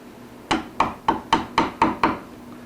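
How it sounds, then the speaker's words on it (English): Metal chisels dropped on a woodworking shop floor land as seven sharp, hard clatters in quick, slightly uneven succession, each ringing briefly before the next, close and fairly loud. "dropping chisels on the floor"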